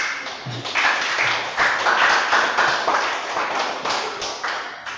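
A classroom of pupils claps together in applause, a dense patter of many hands that stays fairly steady and moderately loud for several seconds.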